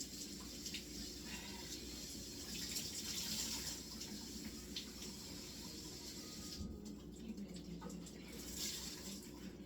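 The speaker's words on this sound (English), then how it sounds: "I'm going to wet it with some warm water." Warm water runs from a kitchen tap onto a clean towel while jam is being made, a steady soft hiss and splash that continues throughout at low volume.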